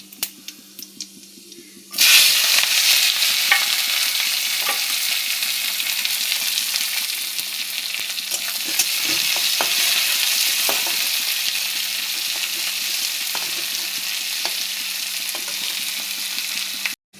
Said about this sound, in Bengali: তেল গরম হয়ে গেছে, দিয়ে দিলাম 5 ফোড়ন, পেঁয়াজ কুচি, লঙ্কা,